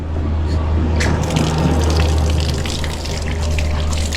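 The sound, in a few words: water flowing out of newly installed pipe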